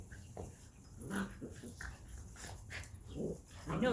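Several puppies whimper and whine close by, with soft panting and yips in between, in short irregular bursts that carry on steadily throughout.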